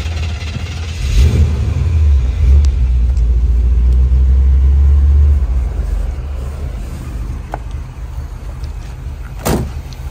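A 1955 Chevrolet Bel Air V8 with an electric choke and HEI distributor cranks and fires up, a loud low rumble surging for several seconds before settling into a smoother, quieter idle, with a brief knock near the end.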